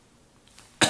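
A single short cough bursts out near the end after near silence.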